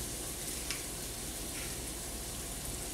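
Freshly pressed garlic sizzles in a skillet with a faint, even hiss and a couple of small ticks, close by and without talking.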